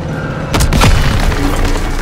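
Tank cannon blast and explosion in Call of Duty WWII, a sudden loud boom followed by a sustained rumbling roar and debris-like crackle close up.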